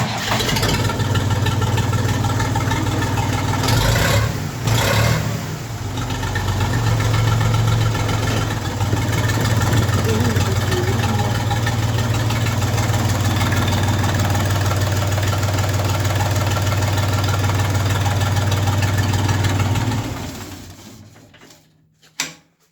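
A mini tractor engine idles steadily at close range with a low, even chug, then cuts off and the sound trails away near the end.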